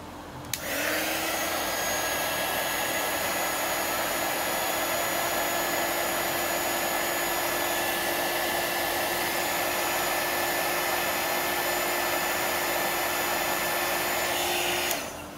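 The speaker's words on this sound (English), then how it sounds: "Heat gun." A heat gun blows steadily for about fourteen seconds to shrink heat shrink tubing over a solder joint and resistor in a guitar treble bleed circuit. The airflow roar is loud, close and constant, and it switches on and off abruptly.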